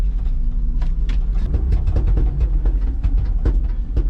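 An old box truck's engine idles and runs steadily nearby, a deep continuous rumble with uneven knocking pulses, loud and alone with no talking.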